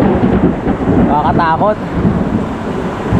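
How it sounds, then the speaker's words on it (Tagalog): Heavy rain pours steadily while thunder rumbles low through a stormy night with lightning, and a voice speaks briefly over the downpour. "lakas ng kidlat"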